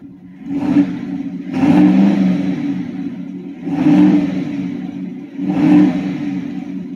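A 2019 GMC Sierra Denali fitted with a Corsa exhaust revs three times in a row, each deep, throaty rise standing out above a steady low idle rumble, fairly close and loud with no talking.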